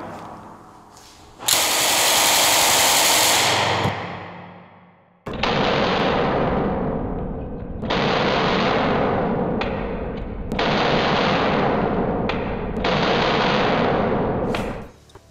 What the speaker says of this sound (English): Let's see if we can rip off an entire magazine. Here we go, full auto,